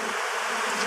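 Honeybees that have left their hive buzz in a dense, steady swarm drone, loud and close, with no talk over it.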